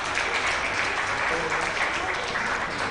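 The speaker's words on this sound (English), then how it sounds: "Big applause for all." Sustained applause from the crowd at the final of a mixed 10m air rifle standing world championship for visually impaired shooters in Al Ain, a steady dense clapping that fills the hall for the full three seconds.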